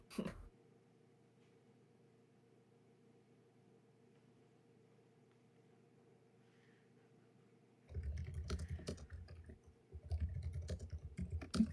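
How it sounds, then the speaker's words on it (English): Rapid keyboard typing clatters in bursts after a long quiet hum, the keys clicking quickly and close. "I hear furious typing."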